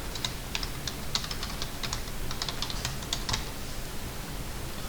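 Computer keyboard typing AutoCAD commands, a quick series of light, close key clicks in irregular clusters over a soft background hiss, with no voice.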